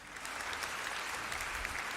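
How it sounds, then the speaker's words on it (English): An audience at a playoff debate on raising Nigeria's drinking age gives the debaters a round of applause: a continuous wash of many hands clapping, fairly close and steady, with no talk over it. "Where is that round of applause?"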